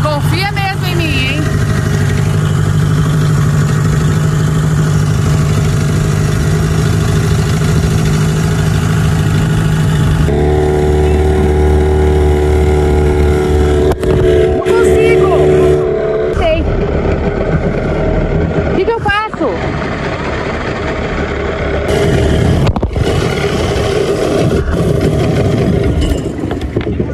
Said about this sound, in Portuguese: Tô pilotando o bote.